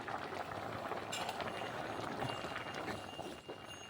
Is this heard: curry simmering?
yes